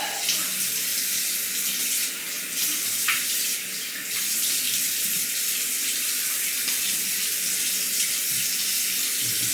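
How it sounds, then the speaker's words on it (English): Steady water streaming from a bathroom tap into a sink during a face rinse after a shave, a continuous close hiss with a few brief splashes and no voices. "Let me rinse up the face."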